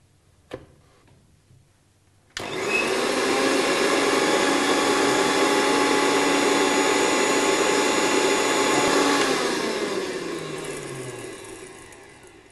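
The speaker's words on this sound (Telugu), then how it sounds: "ధనియాలు జీలకర్ర ఎండుమిర్చి మిరియాలు కొబ్బరి వీటన్నిటిని మిక్సీ జార్లో వేసుకున్నామండి ఇప్పుడు వీటిని మిక్సీ చేసుకోవాలి" An electric mixer grinder grinds coriander seeds, cumin, dried red chillies, peppercorns and coconut in its jar. After a click and a short pause, the motor starts with a loud steady whir for several seconds, then winds down.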